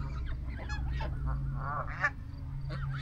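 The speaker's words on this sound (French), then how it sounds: "Il va falloir que je passe au milieu des oies sauvages." Several wild geese honk in a loose, overlapping series over a steady low hum, fairly distant and moderately loud, somewhere on Cape Cod, Massachusetts, with no voices.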